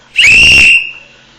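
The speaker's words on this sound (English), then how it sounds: "when we blow the whistle around here, we blow it loud and clear." One loud, shrill whistle blast, close and piercing, lasting about half a second before trailing off into quiet.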